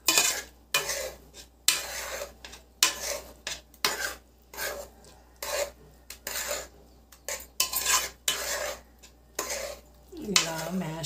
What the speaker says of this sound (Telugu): బాస్మతి బియ్యం బాగా ఉడికింది కదా, దీన్ని ఇది గరిటెతో మ్యాష్ చేయండి, మెత్తగా చేసుకోండి